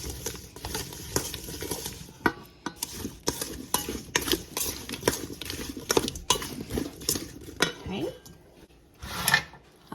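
Seasoned potatoes stirred in a pan with a utensil, giving repeated scraping clinks and soft sizzling over about ten seconds, with some talk in the background.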